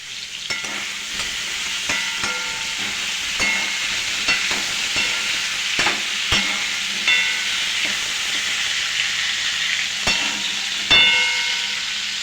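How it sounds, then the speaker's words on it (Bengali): Bitter gourd and potatoes fry in a pan with a steady, bright sizzle, broken by sharp scrapes and clacks as a utensil stirs them, close and fairly loud with no voices. "আজকে দেখো উচ্ছে আলু ভাজা হচ্ছে।"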